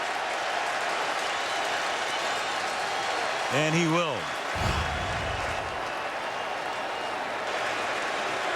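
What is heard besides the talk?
football stadium crowd reacting to a safety call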